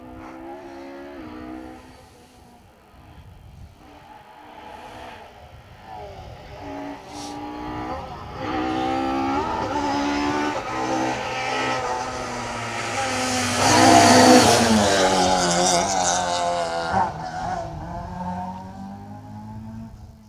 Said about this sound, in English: Car 34, Alistair Cochrane, Beth Cochrane alongside.